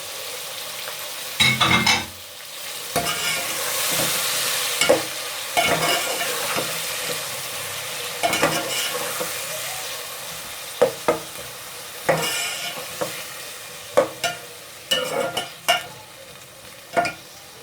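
Potatoes, chopped green chilies and peas frying for aloo matar pulao, a loud crackling sizzle broken by frequent scraping stirs and clacks of a spoon against the pot.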